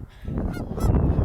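Geese honk outdoors, a loud, close burst of several overlapping nasal honks filling the short moment.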